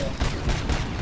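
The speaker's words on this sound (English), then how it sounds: "Why are you shooting me?" Dense, continuous gunfire in RoboCop: Rogue City, loud and close with overlapping bursts filling the whole moment.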